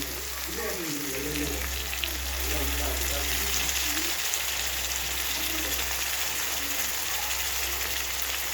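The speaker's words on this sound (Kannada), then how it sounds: "ಲೆಮನ್ ಹಾಕಿದ್ದೀನಿ. ಚೆನ್ನಾಗಿ ಕಲಸೋಣ." A spoon stirs and mixes lemon rice in a hot pan on the stove, giving a steady soft scraping and light sizzling texture that runs continuously for several seconds with faint background noise.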